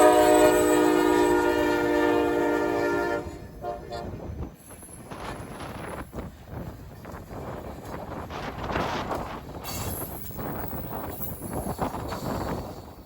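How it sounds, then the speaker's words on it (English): Freight local L-128 rolls past on its way back to Brunswick Yard: a loud sustained locomotive horn blast opens, then rumbling wheels and clanking railcars pass close by amid wind buffeting the microphone. "local L-128 emerged from the old main and headed back to Brunswick Yard"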